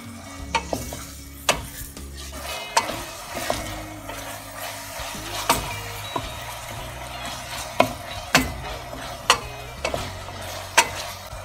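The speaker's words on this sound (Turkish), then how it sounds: "Kıymamızı da çok iyi kavuracağız" Ground meat frying in a pan, steady sizzle underneath while a spatula scrapes and clacks against the pan roughly once a second, a dozen or so sharp close strikes, with no talking.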